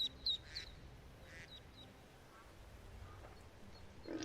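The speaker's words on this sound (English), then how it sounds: "And we have ducks." Ducks in Skyrim give a few faint quacks near the start, followed by quiet ambient game sound.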